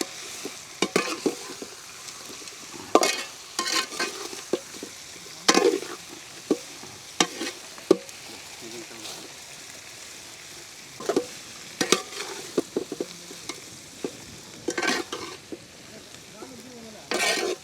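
Fried chicken tossed with chopped onions and curry leaves in a hot pan, a continuous sizzle broken by repeated sharp scraping strokes of a ladle against the metal.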